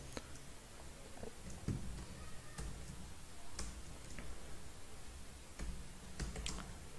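Soft, scattered keystrokes on a computer keyboard while entering error-handling code, with sparse clicks spread over a quiet background and no one speaking.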